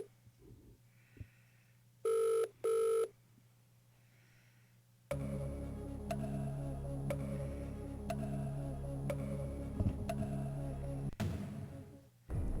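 Telephone ringing in the Australian Game Boy Advance edition of Who Wants To Be A Millionaire as the phone-a-friend lifeline is called: two short electronic rings, then a steady synthesized musical bed with ticking beats continuing to the end.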